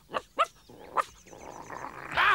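Cartoon dog Bumpy Dog barks three short, separate yaps, followed by a softer rising whine and a louder burst at the end.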